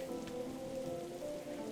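Steady rain drumming on a leaky car in a video game, a constant, even wash of patter with faint tonal hum beneath, continuous and unbroken with no voices.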